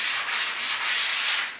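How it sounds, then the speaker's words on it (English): A sanding pad rubs lightly over painted crown molding, a soft, steady hiss with gentle swelling strokes, close and alone. "I'm going to use my sanding pad here, and just to do a light sand"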